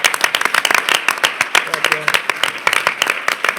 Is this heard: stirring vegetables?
no